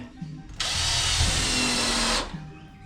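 A power drill whirs in one steady burst of about a second and a half while driving screws into a porch fence. Quieter rustling from the work comes before and after it.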